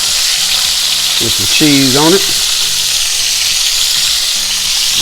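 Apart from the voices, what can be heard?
burger patties with cheese frying on a griddle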